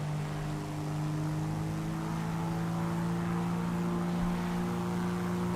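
A Piper Arrow propeller light aircraft in a flight simulator climbs after takeoff over southern England, its engine a steady, even droning hum with no talk over it.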